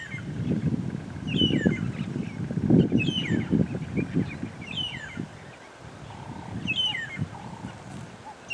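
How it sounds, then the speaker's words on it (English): Birds call in the African bush with repeated clear, chirping phrases at a steady rhythm. Behind them sits a deeper, rumbling layer of honking or grunting calls, with the birds slightly distant and carrying over the low sounds. "Probably my favourite sound of the African bush in terms of bird calls."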